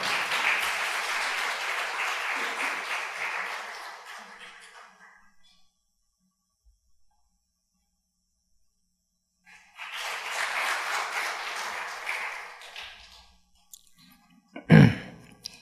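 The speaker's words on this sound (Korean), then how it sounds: "여러분 박수로 환영해 주시기 바랍니다" Applause from a church congregation welcoming an elder forward at a thanksgiving testimony service: a full burst of many hands fades out, then after a silent pause a second burst rises and dies away, ending with a single close thump.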